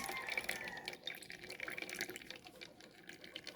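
A drink for chickens trickles and splashes softly through a strainer, a quiet, continuous pouring sound with small drips and no voices.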